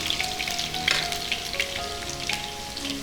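Crushed garlic and mustard seeds frying in hot oil give a steady, close crackling sizzle with dense popping spatter throughout, and no voices.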